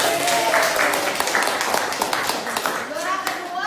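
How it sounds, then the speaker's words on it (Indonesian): A classroom claps for a first-place winner, with brief scattered applause from many hands mixed with children's voices and a teacher talking over it. "Yang juara pertama, tepuk tangan untuk Tira."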